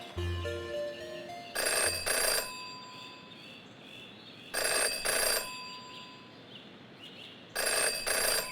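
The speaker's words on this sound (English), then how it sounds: "never to ignore a ringing phone" A telephone rings in the video game Jenny LeClue: three evenly spaced bursts of bright, double-pulsed electronic ringing with quiet gaps between them, and no voices.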